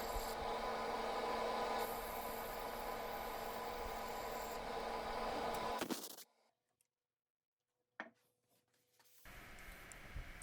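Walnut being sanded on a wood lathe, a steady loud rubbing rasp for about six seconds, then near silence with a brief knock, before the sanding noise returns faintly at the end.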